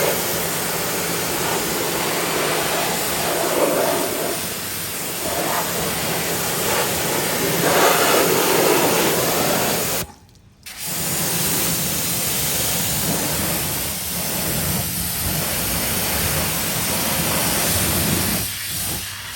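A new vehicle is rinsed down with a steady, close water spray that hisses continuously, with one brief break near the middle before the spray resumes.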